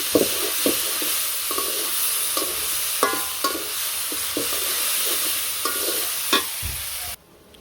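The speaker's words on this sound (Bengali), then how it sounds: "তো রসুনটা দিয়ে ভালো করে নাড়াচাড়া দিলাম।" Garlic sizzling in a hot pan in a village kitchen, stirred with a steady broadband fry and sharp intermittent scrapes and clicks of the spatula, close and fairly loud, ending abruptly.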